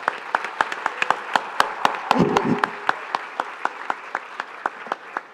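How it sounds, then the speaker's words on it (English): Audience applause at the close of an event, with a burst of many hands clapping at once that thins into scattered, distinct claps fading out over about five seconds. "round of applause for yourselves"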